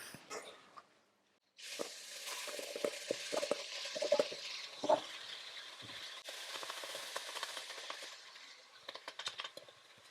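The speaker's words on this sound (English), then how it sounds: "I'm going to add in now my beef." Raw beef goes into a hot pan with aromatics for a bush basil dish and starts frying, a steady broad sizzle that bursts in after a brief quiet and carries on with scattered spits and stirring scrapes.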